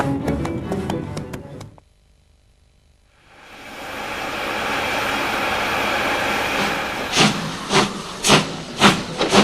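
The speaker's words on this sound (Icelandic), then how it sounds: "Fyrsta járnbraut sem Íslendingar eignast og jafnframt sú eina ekki ætluð fólki heldur grjóti." Iceland's first railway, a freight line built to haul stone, rumbles past as a steady, loud rolling roar with a hissing wash, then rhythmic heavy clunks of wheels over rail joints, with no talking.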